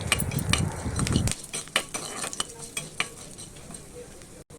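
Chana dal, coriander seeds and red chilies roasting in oil, heard as a dense low sizzle for the first second or so, then a run of scattered clinks and scrapes of a spoon against the pan, fairly close and with no talk.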